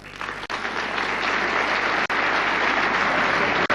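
Sustained audience applause fills a hall at a 1989 Australian soccer awards ceremony, steady and dense clapping from a large crowd, with a few brief dips before it swells again.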